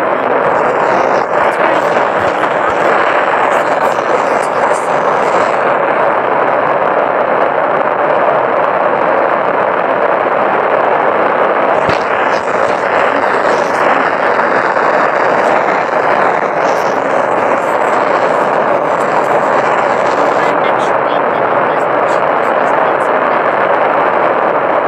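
A rocket blasts off in the Spaceflight Simulator game as a loud, continuous roar of engine thrust that holds steady and dense throughout, with no break.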